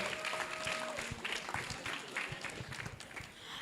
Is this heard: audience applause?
yes